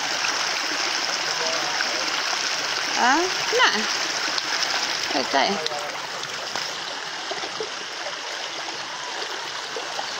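Water gushes loudly and continuously from a leak, a steady rushing splatter that lasts throughout, with brief speech heard over it.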